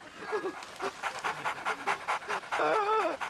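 A dog pants in quick, rhythmic, breathy bursts close by, with some vocal noise mixed in near the end.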